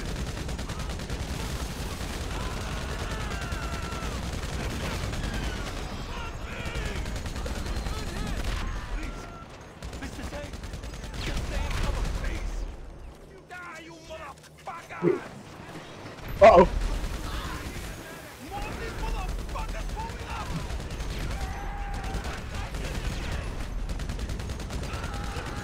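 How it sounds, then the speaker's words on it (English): Fireworks burst in GTA Online as rapid crackling volleys and sharp bangs, mixed with game sounds and a player talking over the top, with a brief quieter stretch before louder pops return. "Oh, that's the fireworks."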